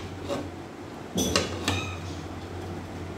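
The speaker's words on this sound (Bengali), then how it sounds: "ঢাকনা দেওয়া হয়ে গেল" A lid is set onto a cooking pot with a couple of quick metallic clanks, close by, over a low steady background hum.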